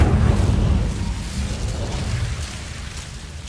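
The Incendio fire spell is cast in Hogwarts Legacy. A loud, low, rumbling burst of flame fades to a roaring hiss over a few seconds, with no speech.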